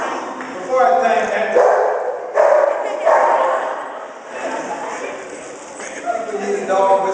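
A dog barks several times in short bursts at a news conference about pet food donated to an animal shelter, heard under and between someone speaking at a microphone.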